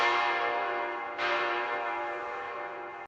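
Great bell of the Venice clock tower tolling: one loud, rich metallic strike hums and decays, then a second strike lands about a second in and rings on, slowly fading, with no voices.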